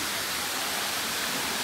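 Taktak Falls waterfall with its strong flow, a continuous dense broadband rush of water, steady and close with no break.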